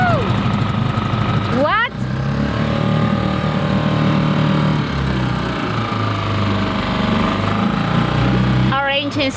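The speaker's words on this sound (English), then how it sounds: "Our engine started." A sailboat's inboard engine turns over and catches, then keeps up a steady, close mechanical drone throughout while someone speaks briefly over it.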